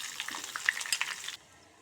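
Mustard seeds, dried red chillies, curry leaves and coriander leaves sizzle and crackle in hot oil for an Udupi temple-style rasam tempering, a close, busy frying hiss that stops abruptly.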